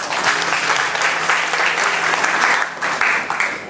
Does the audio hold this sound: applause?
yes